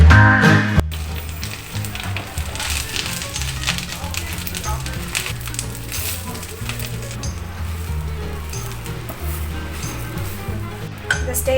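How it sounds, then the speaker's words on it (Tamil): Curry leaves frying in hot oil in a pan while making karuveppilai podi, a continuous crackling sizzle with occasional metallic clinks of a utensil against the pan. "ஆயில் விட்டுக்கலாம். இதில் இந்த கருவேப்பிலையை நம்ம ஆட் பண்ணிக்கலாம்."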